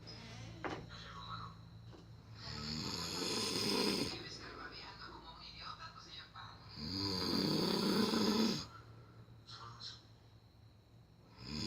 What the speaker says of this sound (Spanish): vamos a ver estos ronquidos de mi papá que está haciendo cuando está durmiendo